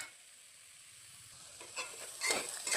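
Food fries in a pan with a faint, steady sizzle that swells into a few louder crackling bursts near the end.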